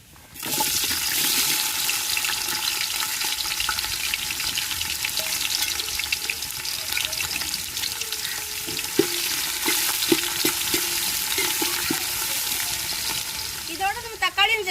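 Chopped onions and green chillies fry steadily in a pan for a vegetable biryani, a loud continuous sizzle with occasional stirring clinks and scrapes, and no voices.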